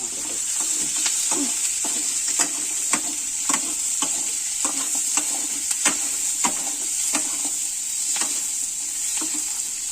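Onions frying in a pan for homemade soybean chilli sizzle steadily and loudly, with frequent small crackles and stirring clicks throughout.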